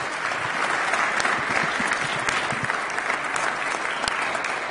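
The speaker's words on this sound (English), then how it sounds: "please join me in giving these fine individuals a warm round of applause" A room full of people at a brain injury proclamation in the Rhode Island statehouse break into sustained applause, a dense even wash of clapping that holds steady throughout with no speech over it.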